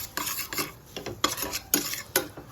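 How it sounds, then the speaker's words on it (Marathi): A utensil stirs semolina through ghee in a pan for a traditional sheera, making repeated close scraping and rasping strokes in an uneven rhythm, with no voices. "तो सुद्धा त्याच्यात पूर्णपणे मिक्स करून घ्या, फिरवून घ्या आणि 2 ते 3 मिनिट तुपात होऊ द्या"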